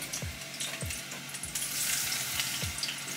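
Fish fries in hot oil for a Jamaican-style escovitch dish, with a steady close sizzle and crackle and a few soft bumps from the pan.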